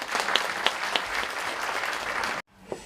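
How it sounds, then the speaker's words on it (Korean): A room of conference attendees at a forum on the Fourth Industrial Revolution and future education applauds to welcome Gyeonggi Province education superintendent Lee Jae-jeong. The clapping is steady and dense for over two seconds, then cuts off abruptly. "이재정 교육감께 큰 박수로 모시겠습니다."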